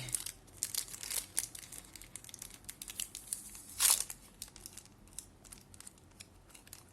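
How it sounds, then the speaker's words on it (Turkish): A KitKat Chunky Cookie Dough wrapper torn open: close, sharp plastic crinkling and rustling in short bursts, with one louder rip near the middle, then softer handling crackles. "İsterseniz hemen e, paketi açalım bakalım."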